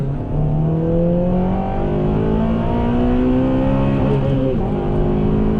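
A 2007 Honda Civic Type-R engine revs hard and climbs steadily to a high, strained pitch near 8,500 rpm, rising through gears, loud and close.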